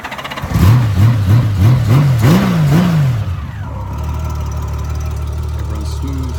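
A 1995 Honda GL1500 motorcycle in neutral, fitted with a 1999 engine, revs in a quick series of rising and falling throttle blips, then settles into a smooth, low, steady idle, close by.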